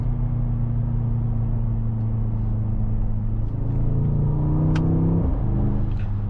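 Mercedes-AMG GT 63 S 4-Door Coupe from 2023 with an 843 hp V8, a deep steady engine drone that rises in pitch as it accelerates, with a gear change near the end, heard from inside the car.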